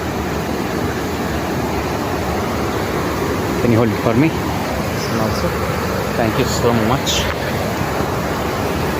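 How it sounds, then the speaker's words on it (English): Waterfall in the forests of Munnar, a constant loud rushing roar filling the scene while people speak briefly over it. "Now here comes the waterfall."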